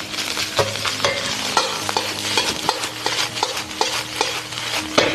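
Egg whites are stir-fried in a wok for scallop fried rice, with a busy sizzle under quick, rhythmic spatula scrapes and clacks against the metal, close and fairly loud.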